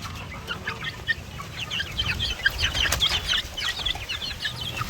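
Young chicks on a farm raised for breeding, a dense flock of high peeping calls mixed with low clucking, continuous and close.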